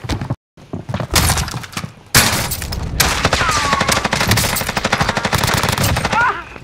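Rapid automatic gunfire rattles in a Call of Duty: Warzone match, loud and close, in sustained bursts after a brief drop to silence, with occasional thuds among the shots.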